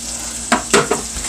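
Tabasco hitting a hot pan while cooking chicken pho, a steady close sizzle of frying with a few sharp bursts as the sauce lands and is stirred, with no voices.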